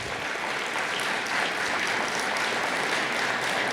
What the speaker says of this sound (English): let's give a round of applause to our Kanab Center team